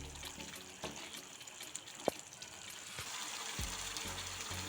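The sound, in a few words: spices frying in oil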